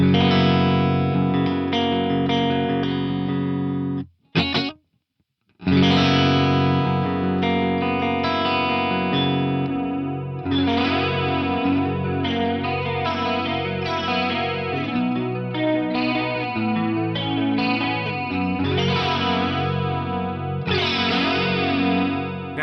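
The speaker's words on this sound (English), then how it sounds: "when I activate the effect, I'm going to get that nice stereo or wet dry effect with this one" Distorted electric guitar chords played through a stereo wet-dry pedal effect in a Fractal FM9, with a lush, wavering chorus-like shimmer, a brief pause after the opening, then sustained modulated strumming.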